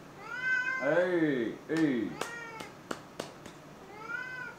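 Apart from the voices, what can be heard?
cat meowing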